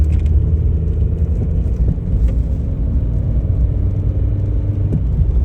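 A VW Beetle with an 01M automatic transmission driving in second gear gives a steady low engine and road rumble with faint rattles, heard close from inside the car and continuous throughout.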